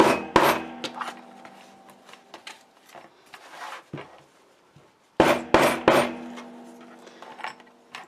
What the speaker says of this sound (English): then I can just hammer it all at once